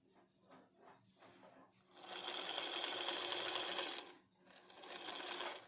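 A sewing machine stitches a quilt in close, rapid bursts: a few short stitching runs, then a longer sustained run and one more, with quiet pauses in between.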